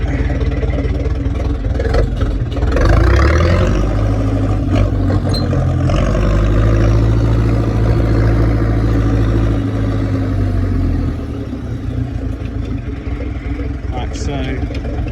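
A Case 770 tractor engine runs close by, a strong rumbling idle that swells into a revved, steady drone for several seconds before dropping back to a lower idle, with a person talking over it.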